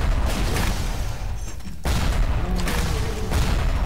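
Frag grenade blasts in the video game Bioshock, dense booming gunfire-like bursts filling the scene, loud and continuous with a brief drop in the middle before the chaos resumes.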